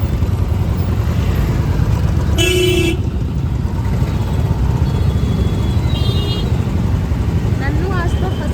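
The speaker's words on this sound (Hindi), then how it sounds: "ये देखो गाइस, ट्रैफिक कितना हो रहा है यहाँ" Horns honk over the dense rumble of idling and creeping engines in a traffic jam: one loud sustained toot, then a few shorter distant beeps, with a voice talking over the constant low drone.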